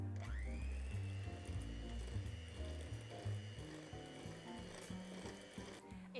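An electric beater whirring through smoked salmon cake filling in a bowl, a steady motor hum with uneven rattling and scraping as the blades work the mixture, close and continuous, with no talking.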